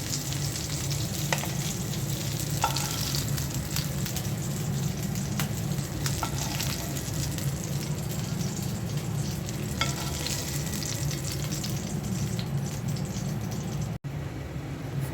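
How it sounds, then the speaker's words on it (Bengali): Fish frying in a frying pan, a steady dense sizzle with crackle and occasional sharper pops running continuously and close throughout, with a brief dropout near the end. "মাছটা ভাজা হয়ে গেছে,"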